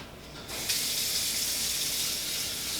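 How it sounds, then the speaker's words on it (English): Tap water gushes steadily into a cooking pot being filled for boiling eggs, switching on after a brief pause and then running as a loud, continuous splashing hiss. "the first step here is obviously to fill the pot with water"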